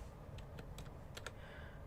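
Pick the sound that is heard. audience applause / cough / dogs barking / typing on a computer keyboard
typing on a computer keyboard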